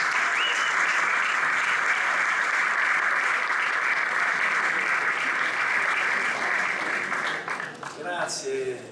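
Sustained applause from a festival audience at an Italian folk music festival in Castellamonte, loud and steady for about seven seconds before thinning out near the end as the clapping fades.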